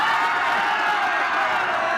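Motocross crowd cheering at a race, a dense, steady roar of many voices heard from a distance, continuous and fairly loud throughout.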